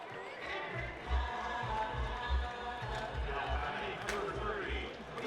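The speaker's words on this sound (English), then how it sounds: "the crowd gets into it" A baseball crowd at an NCAA regional game between Wake Forest and Tennessee rallies for a batter with steady rhythmic thumping and clapping, heard moderately loud beneath a commentator talking.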